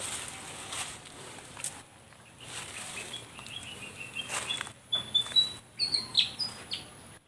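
Small birds chirp in a quick series of bright tweets that grow louder toward the end, over quiet rustling outdoors.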